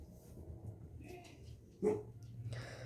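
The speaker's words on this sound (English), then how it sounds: "You're an annoying dog." A dog whimpers softly and then gives a short, sharp bark close by, with faint indoor room noise behind it.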